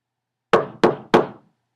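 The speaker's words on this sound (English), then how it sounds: "so gently you came rapping, and so faintly you came tapping at my chamber door" Three sharp knocks on a wooden chamber door, evenly spaced in quick succession, close and distinct against silence.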